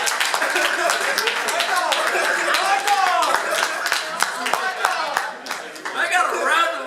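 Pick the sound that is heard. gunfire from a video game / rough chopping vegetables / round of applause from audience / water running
round of applause from audience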